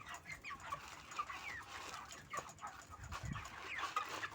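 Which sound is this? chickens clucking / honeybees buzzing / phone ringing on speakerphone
chickens clucking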